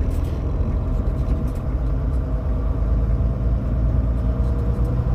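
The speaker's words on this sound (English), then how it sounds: "traffic's pretty backed up" Backed-up car traffic at a Canada border crossing gives a steady low engine rumble and whir, a continuous idling drone of nearby vehicles with no voices.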